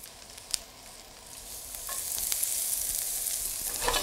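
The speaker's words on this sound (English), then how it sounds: "to the hot pan, I'm going to add a little bit of vegetable oil, just enough to coat the bottom of the pan, and then scoop in the diced white onion" Diced white onion hits hot vegetable oil in a pan for a Texas taco skillet, a steady close sizzle that swells and grows louder partway through, with a sharp utensil tap near the start.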